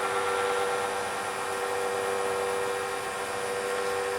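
A turned pen spins on a lathe while micro mesh is held against it for sanding, giving a constant steady motor whine with a faint abrasive hiss throughout.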